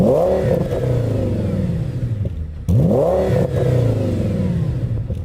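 An Audi RS engine revs hard twice in close succession, each rev a loud, rising then falling roar. The car sits nearby, with a steady rumble between the revs.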